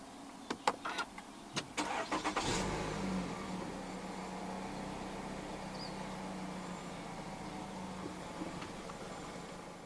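A few clicks, then a 2020 Renault Koleos 2.5 engine cranks and starts by push button, settling into a steady, quiet idle close by.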